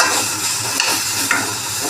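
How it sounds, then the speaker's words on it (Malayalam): Tamarind and green chillies fry in a pan, a close, steady sizzle with light stirring scrapes throughout. "ചൂടായിട്ട് ആ പുളി പച്ചമുളകും ഒക്കെ ഒന്ന് ഫ്രൈ ആയി കഴിയുമ്പോൾ"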